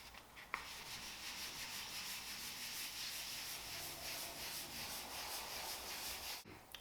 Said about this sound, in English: Alright, so I have the primer side wet sanded.